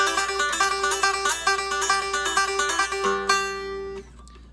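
A cigar box guitar plays a quick, bright hoedown lick of rapidly picked notes over a steady droning string. It is close and loud with no voices, ending on a held chord that rings out.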